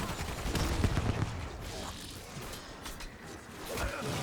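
Gunfire with heavy recoil rattles in a zombies video game, a dense burst of shots and whooshing game effects that swells and fades over a few seconds, close and fairly loud.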